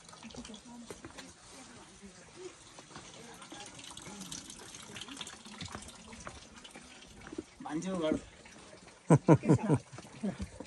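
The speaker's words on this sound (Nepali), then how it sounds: "धारा" Water runs steadily from a village tap near houses in Kudbidanda village, Kaski, near Pokhara, a faint continuous gush with voices talking over it toward the end.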